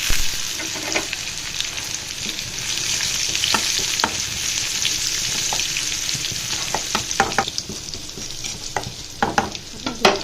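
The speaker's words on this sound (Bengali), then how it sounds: "রসুনগুলো লাল হয়ে যখন ফ্লেভার ছড়াবে তখন দেব কচুর ডোবাগুলো" Garlic and taro stems fry in hot oil with a steady, dense sizzle, punctuated by sharp clicks and scrapes of stirring throughout.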